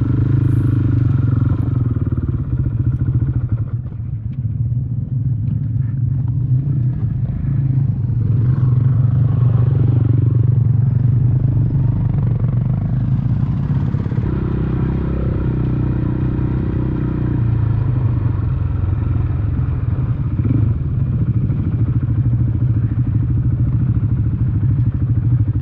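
A big, heavy adventure-touring motorcycle rumbles low and steady nearby as it rolls through a gate, with occasional clunks and scrapes over the engine.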